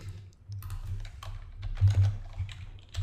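Rapid keystrokes on a computer keyboard, a steady run of close, crisp clicks with uneven rhythm and a low hum underneath, no voices.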